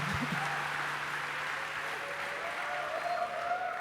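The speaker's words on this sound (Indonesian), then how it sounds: "Tepuk tangan saudara kayak kerupuk masuk angin." A church congregation applauds at a conference plenary session, steady clapping filling the space with a faint held tone underneath and no speech.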